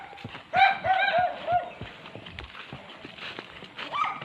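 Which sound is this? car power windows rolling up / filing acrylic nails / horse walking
horse walking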